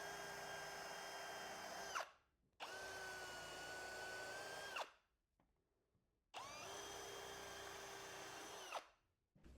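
A power drill pre-drills holes for attaching wooden slats in three long, even whining bursts, each about two seconds, with short silent pauses between them, loud and close.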